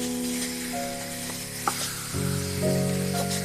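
Pork loin sears in a hot frying pan with a steady sizzle. Humming tones and a sharp click sit over it, and the sizzle swells louder partway through. Nobody speaks.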